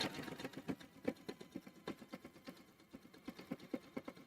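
A sewing machine at moderate speed stitches fabric, giving a quiet, regular run of close mechanical thumps and whirs with an even rhythm.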